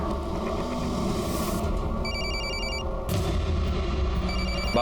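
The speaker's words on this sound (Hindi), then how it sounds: "उसके फोन पर फोन कीजिए जल्दी" A phone rings in a couple of short electronic bursts, loud over a dense rumbling background with no talking.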